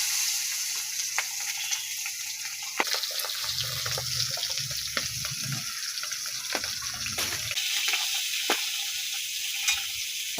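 Pabda fish sizzling steadily as it fries in oil in a wok, a dense continuous hiss throughout with occasional soft clinks and low rumbling in the middle, no voices.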